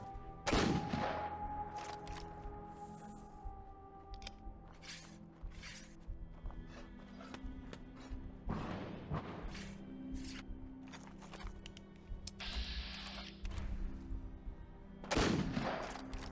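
Musket shots in the video game Fallout 4 ring out as a few sharp, loud blasts spaced several seconds apart, with game sounds and clatter filling the gaps between them.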